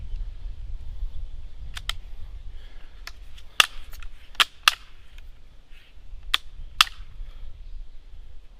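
A Winchester 1977 XS air rifle fires at targets about 10 yards off, giving several sharp, short cracks and snaps spaced irregularly over faint background hiss, with no talking.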